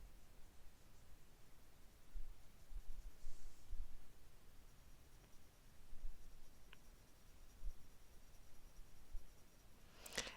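A pen scratches softly across a stone while drawing a Zentangle pattern, faint continuous strokes swelling and fading in slow waves, close and quiet with no talk.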